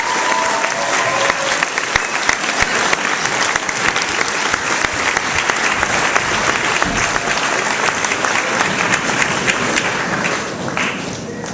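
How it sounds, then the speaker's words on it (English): Sustained applause from an audience at an award ceremony for recipient Anna Mitchell, dense and steady clapping filling the room for over ten seconds before easing slightly at the end. "Applause and congratulations to Our Lady, Anna Mitchell."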